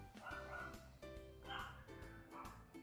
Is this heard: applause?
no